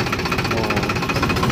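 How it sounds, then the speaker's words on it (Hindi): Powertrac 439 diesel tractor engine running with a reaper attached during a sesame harvest, a loud, rapid, rhythmic knocking chug heard up close with no talk. "ये देखिए रिपर लगा रखी है, पावर ट्रैक 439 जो डीजल सेवर है इसके आगे"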